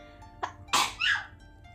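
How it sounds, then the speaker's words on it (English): A single close sneeze: a short intake of breath, then a sharp, loud burst and a trailing exhale, in an otherwise quiet room. "Oh, I'm gonna sneeze."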